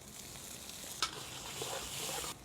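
Onion and tomato sauté in a pan, giving a quiet, brief sizzle with a spoon scraping once as they are stirred.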